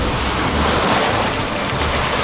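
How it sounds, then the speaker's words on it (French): A boat cruises at about 7 knots across a perfectly calm sea in the Exumas, giving a steady, close wash of water and rushing wind noise with no pauses and no voices. "Une mer parfaitement calme, c'est super. Et on avance à"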